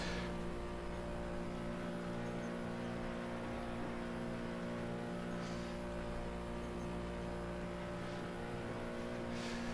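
Race car engine from the 1970s Targa Florio course in Assetto Corsa, held at very high speed near 340 km/h through the Italian countryside, a steady loud drone with a couple of brief whooshing passes.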